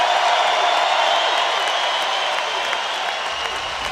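Home crowd at Carver-Hawkeye Arena cheering and applauding as the Hawkeyes win a Big Ten wrestling championship title, a dense, steady roar of clapping and shouts that stays loud throughout and eases slightly near the end.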